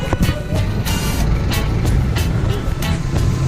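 Road traffic in Taguig, a steady rumble of trucks, cars and buses with faint intermittent beeps, heard close and continuous with no talking.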